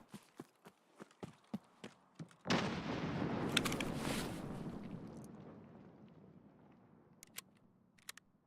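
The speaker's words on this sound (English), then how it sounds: "This gun that sounds like an airsoft gun." Gunfire in Escape from Tarkov (SPT): a string of light, sharp shots ticking evenly like an airsoft gun, then a loud blast that rolls off into a long fading rumble, with a few scattered shots after.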